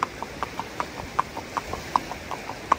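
A horse named Diler clip-clops along a road at night, sharp hoof strikes landing in a steady, even rhythm, close and distinct over a quiet background.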